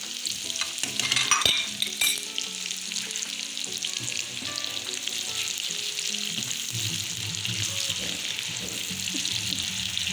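Onions fry in a pan for a Spanish omelette while being stirred, with a continuous close sizzle, repeated scraping of a spoon against the pan and a few clinks.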